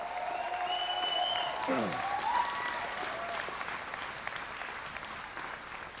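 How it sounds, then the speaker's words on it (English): Audience applause for adult high school equivalency graduates at a 2022 graduation ceremony, a sustained broadband wash of many hands clapping with a faint tonal whistle-like sweep early on, steady and moderately loud throughout. "Let's give them a round of applause for that."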